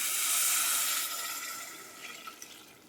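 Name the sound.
pouring boiled water into a pot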